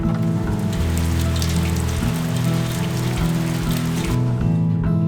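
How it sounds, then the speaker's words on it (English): Heavy rain pours steadily on a roof or covering over a Japanese woodworking site, a dense continuous wash that stays loud and even throughout. "it started to rain heavily"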